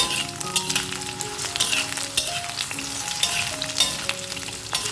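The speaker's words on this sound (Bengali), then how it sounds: "দিয়ে আলুর সাথে খুব ভালো করে ভেজে নেবো" Potato pieces fry and sizzle steadily in hot oil with mustard seeds and a dried red chilli, a dense close crackle with small pops and faint clinks throughout, no voices.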